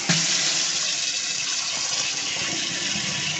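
Water gushes steadily from a kitchen faucet into a sink, a loud, continuous hiss and splash with no voices.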